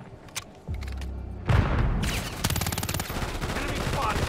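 Frag grenade explosion and gunfire in the Call of Duty video game: a heavy boom followed by sustained rapid automatic fire, loud and close, with battlefield voices in the background.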